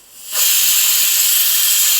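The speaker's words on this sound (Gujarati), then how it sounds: "કુકરમાં 2 સીટી થઈ ગઈ છે" A pressure cooker whistle releasing steam while cooking guvar shaak, a loud close hiss that builds quickly from quiet and then holds steady without pause.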